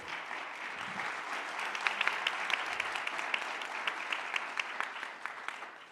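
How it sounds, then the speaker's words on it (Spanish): Sustained audience applause at a panel discussion on good livestock production practices, a steady dense clapping from a crowd lasting several seconds, fairly even in level with a few sharper individual claps standing out. "Un aplauso, por favor, para Romualdo."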